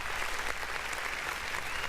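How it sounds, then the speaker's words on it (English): A canned applause sound effect fired from a button during a live radio stream, a steady wash of crowd clapping that holds at an even level throughout. "Let me get that applause again. I like that button."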